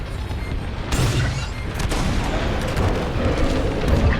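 Starfighter cannons fire in the Star Wars Squadrons space-combat game, a loud stream of heavy booming blasts and rapid bursts layered over a constant roaring engine rumble.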